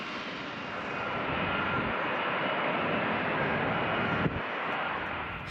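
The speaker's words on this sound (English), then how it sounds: "The F-35B is capable of taking off from a short runway and landing vertically." An F-35B jet engine roars in a steady, broad rumble at a distance, holding level for several seconds with a brief click near the end.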